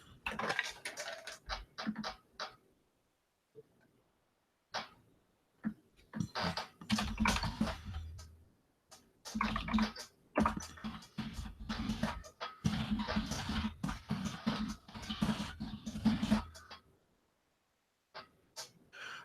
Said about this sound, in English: I'm just typing in some messages here and there.